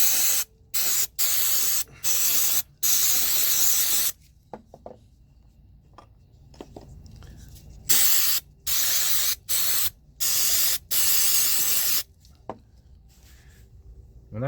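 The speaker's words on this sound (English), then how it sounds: "mass airflow sensor cleaner." Mass airflow sensor cleaner sprayed onto a Toyota Tacoma's airflow sensor in repeated close, loud hissing bursts, some short and some held for a second or more, separated by quiet pauses.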